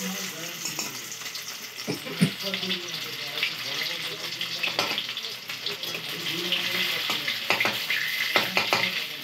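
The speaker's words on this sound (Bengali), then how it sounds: "এবার সেকেন্ড বারে ভাজছে" Spiced cauliflower pakora fry in hot oil with a dense, continuous bubbling sizzle, broken by a few sharp clinks and spatters, fairly close and steady throughout.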